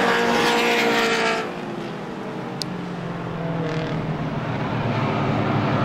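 Race cars in a heat race at the Brickyard roar past on a track, a loud engine surge fading into a continuous high-pitched whine of several cars circling at speed.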